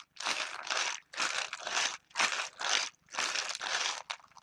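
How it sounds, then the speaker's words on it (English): Crunchy colored pieces shaken inside a container rattle in about six quick, loud bursts with brief pauses between them, a close, maraca-like scratchy shuffle with no talking. "they sound pretty fun when you shake them around too. They almost sound like a maraca."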